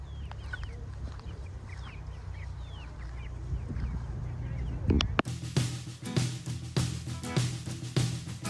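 Young free-range chickens about six weeks old foraging in tall grass near their coop, clucking softly and steadily at close range, with rustling and a louder burst of activity partway through.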